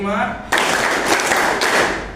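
A group claps in a counted rhythm exercise, a sharp burst of hand claps cutting in after a brief spoken count, with a second clap accent near the end.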